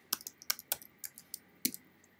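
Computer keyboard keys clicked in a quick irregular burst of about ten crisp taps, close and fairly quiet, with no talking.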